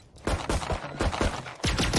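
Rapid bursts of gunfire in Valorant on the Icebox map, several sharp loud shots in quick clusters with brief gaps between them, close and without talk.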